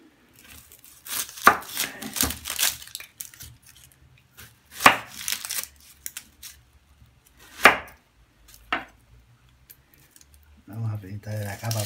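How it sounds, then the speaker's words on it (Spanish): An onion is chopped with a knife on a board in short bursts of crisp, close taps separated by pauses, with a voice speaking between and over the cuts. "Cortar un poquito de cebolla."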